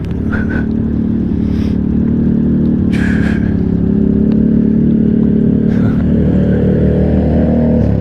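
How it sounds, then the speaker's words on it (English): Motorcycle being turned around on a ride after a wrong turn: a close, loud engine idling and rumbling continuously, with a few short clunks and scuffs as the bike is shuffled round. "So I think I better turn the bike."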